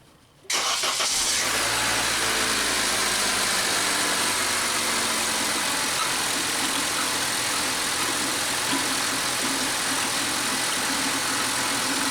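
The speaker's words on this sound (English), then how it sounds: "We're just going to fire up the car for a couple seconds and pump this fluid out." A 2006-2011 Honda Civic engine fires up and idles steadily while old power steering fluid is pumped out during a pump replacement; a brief start, then an even, close mechanical hum that continues alone.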